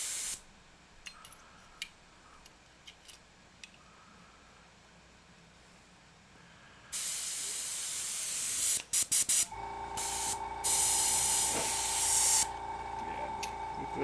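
An airbrush sprays in bursts. The first half is quiet, then a loud broadband hiss starts at about 7 seconds, breaks off briefly and resumes as a steady close spray that lasts to the end.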